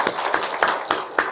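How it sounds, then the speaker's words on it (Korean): Church congregation giving a short round of applause after a membership proclamation, five or so evenly spaced claps from a small group, fairly close and brief. "박수 한번 하겠습니다."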